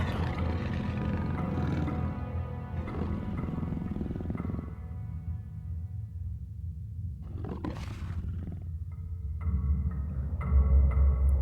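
Roaring growls from wolves in the horror game Penumbra Overture, a deep, sustained snarl that is loud and close, fades midway, then flares again with a sharp burst and renewed rumbling growl at the end.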